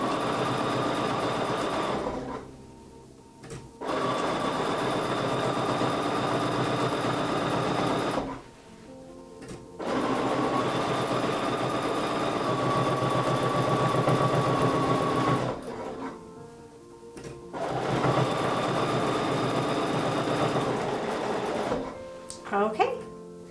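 A sewing machine stitches around quilt blocks in loud, rapid bursts, pausing briefly between runs as the fabric is turned, with a few short gaps of near silence.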